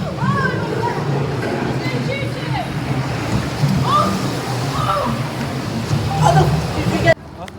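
Water sloshes and splashes on a theme park river rapids ride with a waterfall, a continuous churning wash close by, mixed with excited riders' shouts and chatter.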